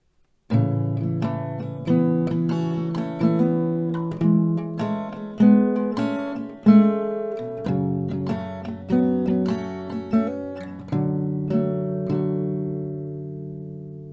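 An acoustic guitar strums a slow, steady progression of chords, each stroke ringing out clearly before fading into the last sustained chord.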